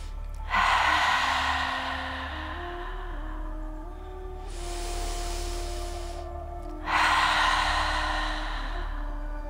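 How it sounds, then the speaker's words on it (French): Prenatal yoga breathing through a contracted larynx: two long, soft, wave-like breaths swelling and fading in turn, close and hushed over a faint low hum, with no talking. "dès qu'on contracte le larynx, le son de notre respiration va monter un petit peu, puis ça va former le son des vagues"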